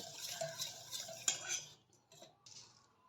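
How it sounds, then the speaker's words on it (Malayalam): Batter for a sweet maida appam being beaten with a whisk or spoon in a bowl, soft quick clinking and scraping strokes, close and faint, with a brief pause partway through. "ഇതുപോലെ ഒരു വിസ്ക് ഉണ്ടെങ്കിൽ അത് വെച്ചിട്ട് ഇല്ലെങ്കിൽ സ്പൂൺ വെച്ചിട്ടാണെങ്കിലും നമുക്ക് നല്ലപോലെ ബീറ്റ് ചെയ്തെടുക്കുക"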